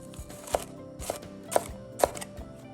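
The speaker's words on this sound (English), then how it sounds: "I'm doing a fine Brunoise chop on the jalapeno so it mixes everywhere" A knife finely brunoise-chops a jalapeno on a cutting board for a chicken pasta bake, four crisp, evenly spaced chops about half a second apart, close and clear over a faint background hum.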